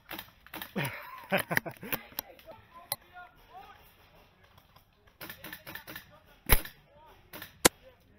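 Sniper rifle shots in the video game Ghost Recon Wildlands, a few sharp cracking reports spaced apart, with someone talking excitedly between and over them.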